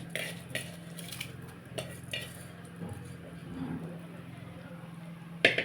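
Dill leaf (sabsige soppu) rice bath being mixed in a pan, with soft scraping and clinking of a spoon against metal over a steady low hum, plus a sharper clatter near the end.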